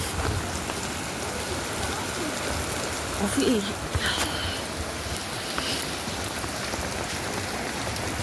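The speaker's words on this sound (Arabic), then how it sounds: "الشتا بتطير كده" Heavy rain falls steadily during a storm in Alexandria, a dense continuous patter of drops on surfaces; a person speaks briefly over the downpour, with a faint bird call in the middle.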